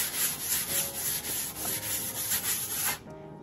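A rad pad scuff-sands wooden furniture with a steady, close-up rubbing and scratching, in gentle repeated strokes that stop near the end.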